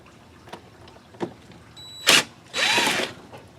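Small T20 Torx screws are being backed out of an intake sensor on a Duramax diesel with a power driver, giving a few soft clicks and then two short whirring bursts, close by with no talking.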